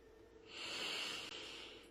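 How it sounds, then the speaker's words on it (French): A slow, deep breath drawn and released during a guided meditation, a soft airy rush that swells and then fades, close and alone with no talk. "Respiration profonde."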